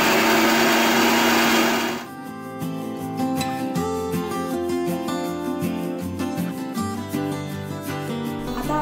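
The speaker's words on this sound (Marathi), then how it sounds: "आता मी या मिक्सरमध्ये भाजलेला कांदा आणि भाजलेलं सुकं खोबरं वाटून घेते" A kitchen mixer grinds roasted onion and dry coconut into a paste without water, a loud steady motor whine with a whirring, slightly uneven drone after a brief harsh start.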